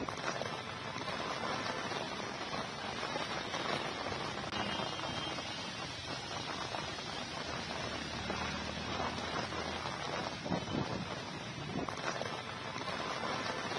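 Strong windstorm with rain sweeping across Delhi NCR under dark skies, a dense continuous roar of wind and rainfall that stays steady and fairly loud throughout with no voices.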